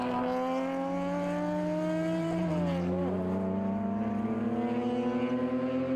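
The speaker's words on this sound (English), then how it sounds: "that is Brian Kelt in the BMW 325i." A 2007 BMW 325i race car passes on the circuit at Virginia International Raceway, its engine note loud and steady with a pitch drop as it goes by, followed by another car's lower drone.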